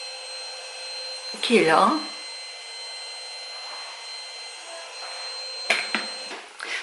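A vacuum cleaner hums steadily in the background while a person speaks briefly, with a few louder bumps and shifts near the start and end.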